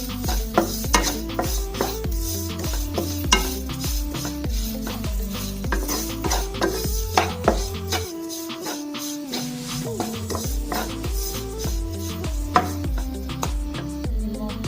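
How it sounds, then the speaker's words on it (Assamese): Spices including Kashmiri chilli powder sizzle in a pan while a spoon stirs with repeated rhythmic scrapes and knocks against the metal, close and fairly loud. "এইখিনি অকণমান ভাজি লৈ দিম।"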